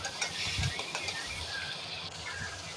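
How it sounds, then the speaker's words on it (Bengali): Onion and shrimp frying in a little oil in a pan, a soft steady sizzle with occasional stirring scrapes and clinks, quiet and close throughout. "এখন সামান্য তেল দিয়ে দিব, পেঁয়াজ চিংড়ি মাছ দিয়ে দিব, কিছুক্ষণ ভেজে নিব।"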